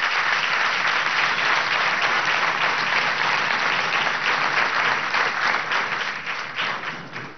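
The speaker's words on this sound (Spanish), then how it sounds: "Un aplauso a la Asamblea Nacional Constituyente." A large audience at a closing session of an indigenous party congress applauds the National Constituent Assembly with loud, sustained clapping that tapers off at the end.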